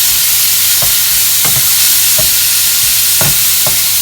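Diced bacon and Brussels sprouts frying loudly in a pan, a constant dense sizzle broken by several sharp knocks and scrapes of stirring, with no voices.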